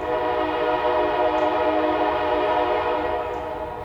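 A train passing close by at steady loudness, its horn sounding as a sustained multi-tone blast throughout, fading slightly at the end, with no talking.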